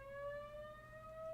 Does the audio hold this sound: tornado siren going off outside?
yes